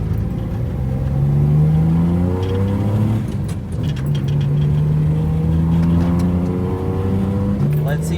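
A Daihatsu Mira's small engine drones under load while driving on a road trip, its pitch rising and shifting with gear changes, steady and close throughout.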